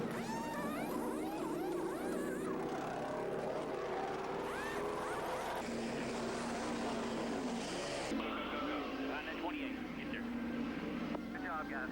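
NASCAR race cars roar around a racetrack in a continuous, loud engine drone with pitch sweeping up and down as cars pass, while people talk over the noise throughout.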